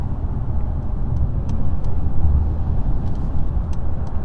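Mercedes CLS 450 AMG coupe from 2022 accelerating on a motorway, a steady, muffled engine and road drone heard from inside the cabin, with no talk.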